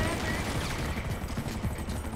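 Gunfire in Grand Theft Auto 5 rattles in rapid, dense bursts, loud and close, with a voice mixed in under the shots.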